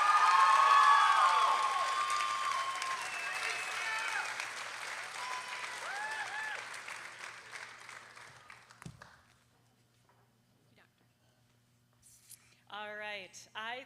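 Audience applause at a 2023 health sciences university commencement for new white coat recipients: dense, loud clapping that fades over about nine seconds, then a quiet gap before a voice speaks near the end.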